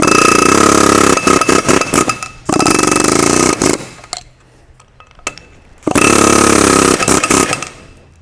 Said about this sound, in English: What I like to use is an air hammer with a 1/2 inch roll pin punch on the end.